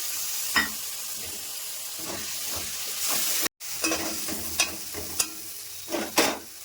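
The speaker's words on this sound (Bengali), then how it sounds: "মশলা থেকে তেল ছাড়ছে" Ground cumin, coriander, chili, turmeric, salt and tomato paste frying in hot oil for an egg curry, a steady close sizzle broken by repeated spoon scrapes and knocks, with a short gap midway.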